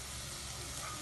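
Chopped tomatoes land in a hot pan and give off a steady, close, even sizzle that fills the whole short moment.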